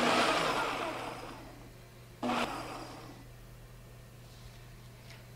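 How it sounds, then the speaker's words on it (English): A Ninja food processor on its chop function chops ingredients for collard greens pesto, a loud whirring burst that fades away, followed by a second short pulse, with no talking. "this is our Ninja food processor"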